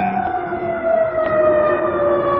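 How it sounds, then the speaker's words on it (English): An ambulance siren wails steadily as it passes, its tone sliding slightly lower, loud and fairly close with no talking over it. "Now there goes an ambulance."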